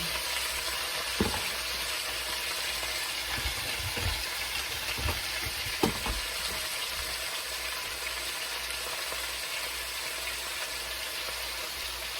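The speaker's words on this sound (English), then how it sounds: "frying it so it's crispy in another pan" Continuous crackling sizzle of food frying in a hot pan, steady and close, with a few louder pops and no voices.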